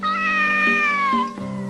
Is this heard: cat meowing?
yes